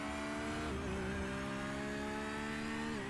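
Onboard Porsche race car engine in a sim racing endurance event, a steady sustained drone with a slight pitch dip midway, constant and close throughout with no talk.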